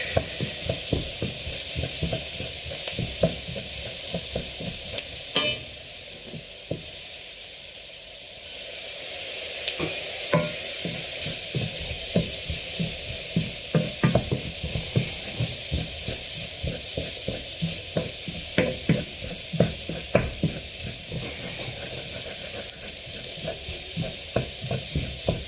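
Chilli con carne mince fries in a pan with a splash of stock, giving a continuous loud sizzle and hiss with frequent stirring and scraping strokes up close, and no one speaks.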